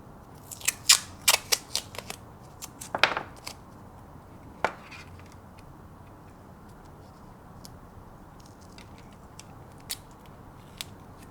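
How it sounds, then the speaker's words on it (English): Paper tape is handled and torn while a Halloween costume is being built, giving a cluster of crisp, sharp snaps and crackles in the first few seconds, then only sparse faint clicks in a quiet room. "God, this paper tape is awful."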